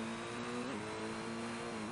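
A rally car engine in the video game Colin McRae Rally holds a steady, loud, close drone, with a brief pitch dip at a gear change and no talking over it.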